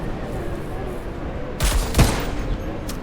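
A pair of sharp gunshots ring out during a raid in the zombie survival game HumanitZ, moderately loud against a steady background hum, the second a bit stronger than the first.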